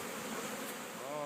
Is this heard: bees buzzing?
yes